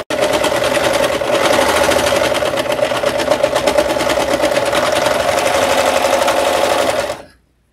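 A serger sews a seam on a pillow cover, running steadily and loudly for about seven seconds, a fast continuous mechanical whir with a humming tone, then stops abruptly.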